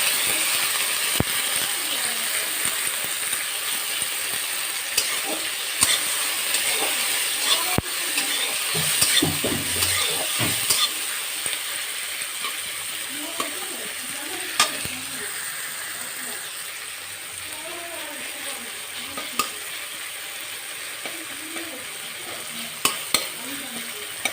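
Oil frying hot in a pan for chowmein gives a constant close sizzle, with scattered clicks and clatter from stirring, and a voice occasionally speaks over it.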